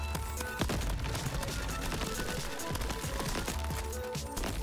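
Rapid gunfire with grenade blasts in the video game Crab Champions, a dense continuous barrage of loud shots and booms, close and relentless throughout.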